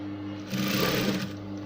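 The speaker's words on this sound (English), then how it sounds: "So I keep sewing round and round till I'm done with the process." A sewing machine runs in a short, steady burst while stitching exaggerated ruffles in a spiral onto a blouse. The motor whirs up close and fairly loud for about a second, then winds down.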